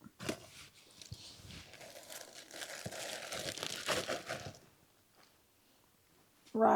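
Scissors cutting through flannel fabric for a sweatshirt sleeve give a crisp crinkly snipping and rustle over several seconds, close up, before fading to quiet with a sudden loud sound at the very end.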